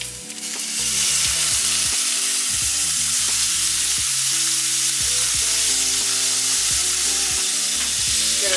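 Tripletail fish and broccoli fry in butter and garlic with a loud, dense sizzle that swells in within the first second and stays strong, with scattered crackling and some utensil scraping.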